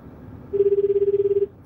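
An outgoing telephone call produces a single ringback tone: a steady, fairly loud pulsing ring lasting about a second, heard alone with no talk.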